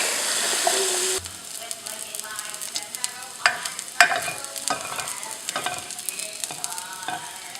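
Garlic fries in hot oil in a home kitchen, giving a loud, steady sizzle with crackling pops and bursts of spatter, close by and with no talk.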